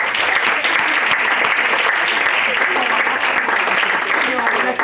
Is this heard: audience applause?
yes